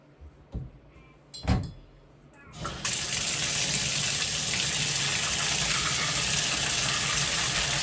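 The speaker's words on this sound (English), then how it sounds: "I'm gonna turn on the bath and we'll see how fast Abel gets here" Bath water gushes steadily from a tap into a tub in a family bathroom, a loud continuous rush that starts after a few brief knocks and carries on evenly to the end.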